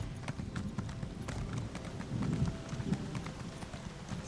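Horse hooves clip-clop steadily on a road in the video game Elder Scrolls Online, a continuous, fairly close trotting rhythm of many quick footfalls with no talk over it.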